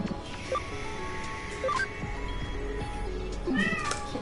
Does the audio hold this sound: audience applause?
no